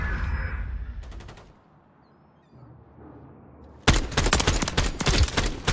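Rapid bursts of video game gunfire in a search-and-destroy match: a short volley near the start, a quiet lull, then a loud, sustained stretch of automatic fire to the end.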